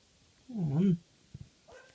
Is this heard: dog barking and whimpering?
yes